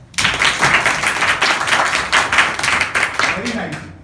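Schoolchildren at a village composite school clap their hands together in a quick burst of close, loud, uneven claps lasting a few seconds, with some voices mixed in.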